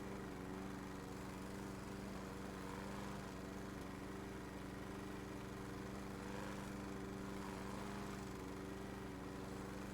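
Lawn mower engine from a lawnmower video game, a steady, unbroken hum with a constant pitch running throughout, moderately loud and with no voices.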